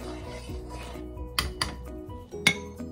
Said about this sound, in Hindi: अब हम लोग राइस डालेंगे।